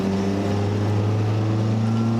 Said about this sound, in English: See, I'm accelerating right now,